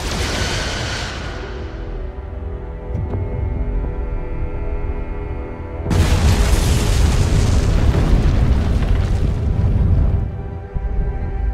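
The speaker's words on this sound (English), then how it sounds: "Firing photon torpedoes." Photon torpedoes launch and explode in Star Trek Resurgence: an initial rushing blast fades into a humming drone, then a second loud booming explosion erupts midway and rumbles on before cutting off.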